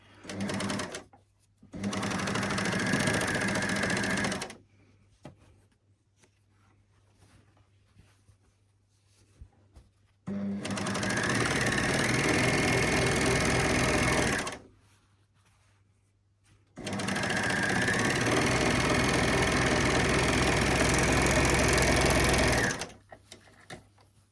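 A sewing machine stitches the back seam of a fabric bottle gift bag in three long, steady runs of rapid needle clatter, each stopping abruptly, with quiet pauses between them.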